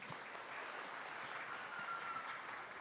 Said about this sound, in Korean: let's welcome him with a great round of applause